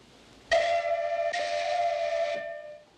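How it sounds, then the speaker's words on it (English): A whistle is blown in one sharp, loud blast that cuts in suddenly, with a brief restart partway through, holds as a sustained tonal shriek and then fades away. "And if something gets in our way, we just blow the whistle."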